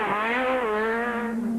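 Toyota Corolla rally car in Total livery on a mountain stage of the 2002 Mountain Trail rally, its engine a loud, close, steady drone that rises and falls slightly with the revs, heard alone.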